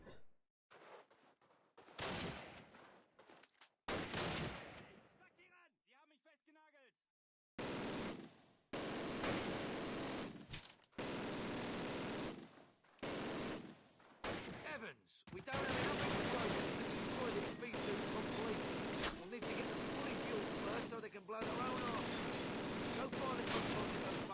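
Gunfire in an old Call of Duty game comes as loud bursts of rapid machine-gun fire, broken by short silent gaps early on and then sustained near the end.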